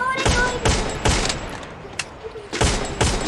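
Gunfire in a battle royale video game: bursts of rapid automatic shots in quick succession, loud and close, with a short lull between bursts.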